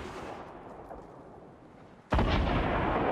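Grenade blasts in the Fortnite battle royale video game: after a stretch of low rumbling gunfire, a sudden loud booming burst kicks in and sustains near and heavy to the end, with no talking.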